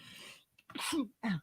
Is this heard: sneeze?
yes